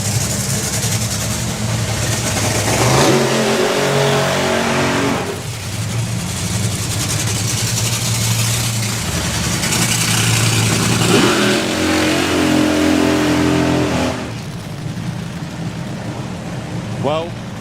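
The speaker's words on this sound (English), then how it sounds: "Tommy Happonen and Suzanne Kalin about to roll forward into the burnouts" Top Fuel dragsters at the FIA Euro Finals drag race rev their engines before rolling into burnouts, producing a loud, harsh, sustained roar that swells in two surges, with a commentator talking over the noise.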